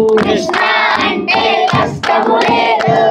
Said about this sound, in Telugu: ఇప్పుడు చప్పట్లు కొడుతూ చెప్పాలి